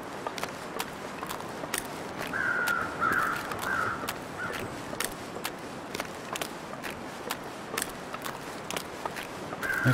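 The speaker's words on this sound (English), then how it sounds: "There's some birds over there." Crows caw a few times in the video game The Long Dark, distant and partly drowned out by a steady crunch of footsteps walking through snow.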